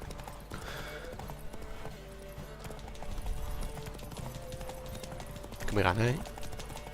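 A horse in a video game runs with rhythmic clip-clop hoofbeats over game music, ending in a loud neighing whinny near the end, while someone talks over it.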